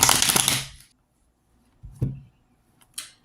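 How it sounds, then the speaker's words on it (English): A tarot card deck being shuffled: a dense riffle of cards at the start, then two short shuffling bursts after a pause, close and quiet with no talking. "So my fingers started to tingle, so I knew it was time to finish shuffling and cut the deck."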